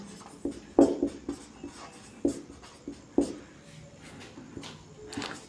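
Chalk taps and scrapes on a board in short irregular strokes during a physics lesson, fairly close and quiet, with no talk over it.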